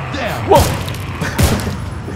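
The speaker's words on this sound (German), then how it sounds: "das war zwei sehr schöne Schüsse" Two heavy, booming gunshots from the video game Contagion ring out about a second apart over a constant layer of game noise and background chatter.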